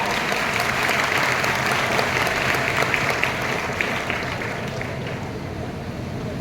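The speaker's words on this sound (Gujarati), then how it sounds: "આપણે તાળીઓ પાડો જોરદાર" Loud, sustained applause from an audience at a Paliwal Brahmin community student award ceremony, dense clapping that holds steady throughout and eases slightly near the end, with no speech over it.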